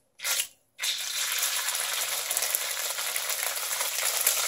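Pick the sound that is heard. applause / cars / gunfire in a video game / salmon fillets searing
salmon fillets searing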